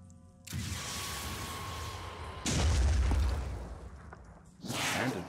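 Weapons fire in Phoenix Point, at a Pandoran lair: three heavy, booming blasts spaced a couple of seconds apart. Each is followed by a long, roaring, rumbling tail.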